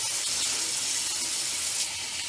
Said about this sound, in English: I'll just get it really nice and hot and wet, kind of rinsing everything off.